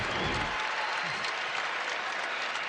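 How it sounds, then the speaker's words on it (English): A near-home crowd at a Summit League final basketball game between Denver and South Dakota State on a neutral floor claps and cheers loudly, a dense, constant roar with brief low murmurs underneath. "The raucous recognition by the just about home crowd on a neutral floor."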